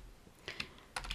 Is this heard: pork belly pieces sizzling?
no